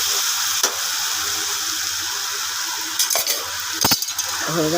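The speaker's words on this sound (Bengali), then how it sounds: "এবার ঝিঙার চাপড় ঘন্টটা নেড়ে দিচ্ছি।" A spoon stirs and scrapes ridge gourd and lentil-cake curry in a kadai over a constant sizzle, with a few sharp metallic clinks near the end.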